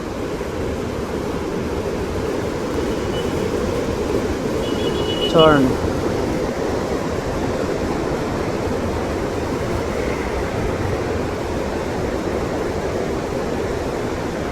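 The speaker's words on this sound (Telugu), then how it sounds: "ఆ వాటర్ చూడండి ఎంత ఫోర్స్గా వెళ్తుందో." Water rushes forcefully from the gates of Mallavaram dam as a steady, loud, broadband roar that runs unbroken through the whole stretch, with a voice speaking briefly over it.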